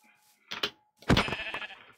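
Sheep bleat in Minecraft, loud and close, with one short bleat followed by a longer, wavering bleat mixed with game sound effects.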